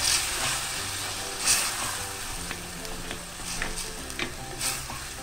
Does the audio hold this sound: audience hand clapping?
no